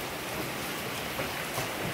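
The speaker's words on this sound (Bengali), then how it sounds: "মুষলধারে বৃষ্টি চলছে।" Torrential rain pouring steadily, a dense, even wash of drops hitting wet ground and surfaces with no pauses, loud and close.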